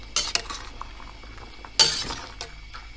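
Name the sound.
stirring eggplants and peppers in a cooking pot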